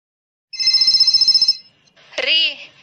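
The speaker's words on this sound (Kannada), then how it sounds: "ನಿಮ್ ದೋಸ್ತ್ ಫೋನ್ ಮಾಡ್ಯಾನ ನೋಡ್ರಿ, ಫೋನ್ ತಗೋರಿ" A phone rings in a lively rapid trill for about a second after a short silence, then a voice speaks loudly close by.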